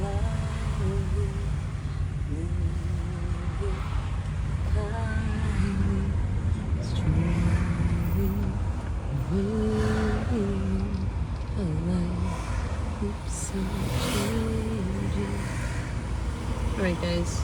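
A car moves through hot, congested traffic in Guatemala City, with a steady low engine and road rumble throughout and a few faint passing vehicle sounds, while people talk over it.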